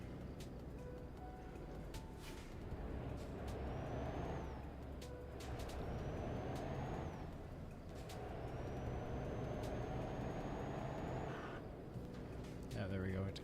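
A heavy Volvo FH6 truck engine in Euro Truck Simulator 2, with its engine light on, rumbles and strains with rising whines and mechanical grinding, close and continuous, with someone talking over it.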